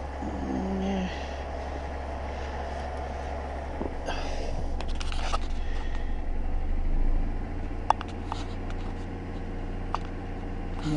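Acura car engine idling while warming up on a cold day, a steady low rumble that swells briefly mid-way before settling, close and continuous, with a couple of faint clicks.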